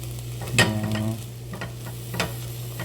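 Chopped onion with a pinch of salt being sautéed and stirred in hot oil for beef chili: a steady low sizzle with a few sharp scrapes of the utensil against the pan, close by and with no talking.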